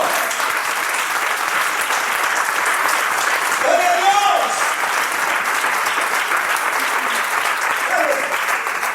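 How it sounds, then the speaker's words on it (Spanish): Steady applause from a crowd fills the clip while someone shouts an exclamation over it. "Un aplauso, ¡es tremendo!"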